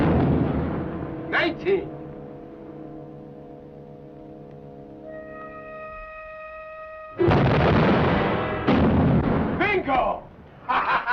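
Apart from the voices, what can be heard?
torpedo hitting a ship, explosion in 1951 war film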